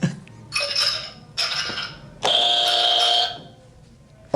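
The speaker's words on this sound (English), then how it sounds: "What's the Ice in a glass" Ice cubes clinking and rattling in a glass around the house, heard as three bright bursts of jangling, a short one, a second short one and a longer final shake, close and clear with no talk.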